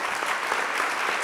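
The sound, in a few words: applause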